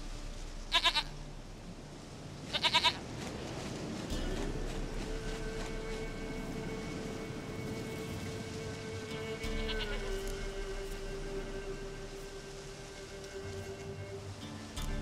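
Goat bleating in The Witcher 3, two short bursts of bleats near the start over steady game ambience and a sustained tonal hum.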